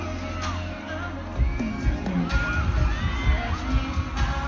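A large concert crowd cheers and shouts steadily throughout, with excited voices rising over the roar, at a trilogy finale concert.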